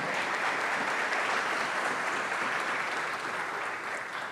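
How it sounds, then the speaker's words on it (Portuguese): A church congregation applauds during a sermon, a full, continuous roar of many hands clapping at steady loudness, with no talking over it. "Você pode aplaudir a Ele por esse plano? Pode ser mais forte."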